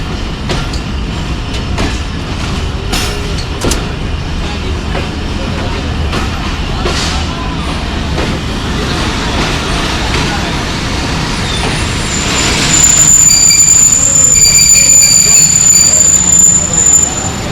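At Jhelum railway station, the Sir Syed Express private train rumbles and clatters under a loud, busy station din, with people talking throughout and a high steady whine entering near the end.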